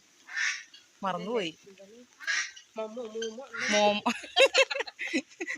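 Several loud, nasal duck quacks and honks in quick, irregular bursts, mixed with a person talking nearby.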